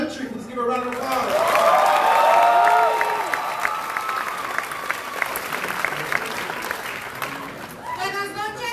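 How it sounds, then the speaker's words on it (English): A crowd at a Chicago Teachers Union rally with Bernie Sanders breaks into loud, sustained applause with scattered cheers, swelling through the middle and holding steady before tapering off, with some voices rising above the clapping. "Please give a round of applause"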